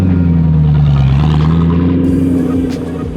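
A 2005 Ford GT rolls up close by at a service bay, its deep engine droning loudly with a steady low rumble that dips slightly in pitch before easing off as the car settles to a stop.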